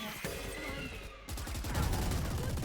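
Rapid gunfire from the shooter game Valorant crackles in dense bursts, loud and close, with a brief lull partway through before the shots resume.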